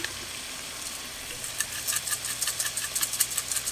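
Steak seasoned with adobo all-purpose seasoning, salt and Texas steak seasoning fries in a pan, giving a steady close sizzle with repeated crackling pops and stirring, and no talk.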